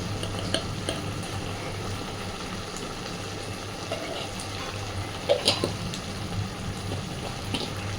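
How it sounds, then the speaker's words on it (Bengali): Stirring and mixing of a vegetarian rice and pointed gourd dish with ghee and garam masala in a pan over a gas flame, soft continuous scraping and gentle sizzle with a few louder clinks of the utensil. "খুব ভালোভাবে সব কিছুকে এবার মিশিয়ে দেব।"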